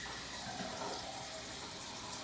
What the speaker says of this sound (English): I still got my water running back there